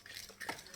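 A spoon stirs a sugar mixture in a pot to dissolve the granules, giving a short, close scraping swirl with a light clink midway, heard alone.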